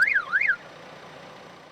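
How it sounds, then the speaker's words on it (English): Siren chirp from an Xtreme Polesetter II boom remote confirming sync: two quick rising-and-falling electronic whoops, loud and close, then a low steady hum. "a siren will sound when it achieves sync."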